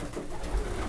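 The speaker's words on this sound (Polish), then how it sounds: "Dużo gołębi, tego może nie widać." A large flock of pigeons eating feed cubes coos softly and steadily under a dense background of flock noise, close by and brief.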